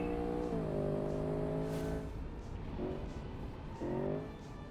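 A rear-wheel drive racing game car engine revs up in rising whines, drops through shifts and surges again, loud and near with a faint tire squeal, with no voices.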